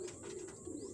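Pigeons coo softly in a low continuous murmur at the loft, faint and close, over a steady background hiss.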